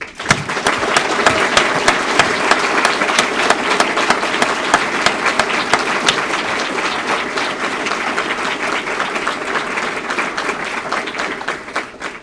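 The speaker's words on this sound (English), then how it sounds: "Please join me in a round of applause." A large audience at a Navy Supply Corps School graduation ceremony breaks into sustained, loud, dense applause that holds steady for about twelve seconds before tapering off, with no talk.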